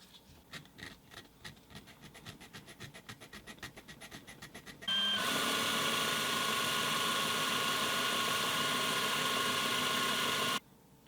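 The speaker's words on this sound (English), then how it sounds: "I'm going to re-drill these posts" A small power drill whines steadily at close range for several seconds, re-drilling the posts of a Hot Wheels Python toy car, preceded by rhythmic rubbing or scraping, then stops abruptly.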